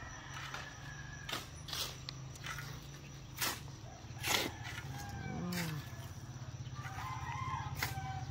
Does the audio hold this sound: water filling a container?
no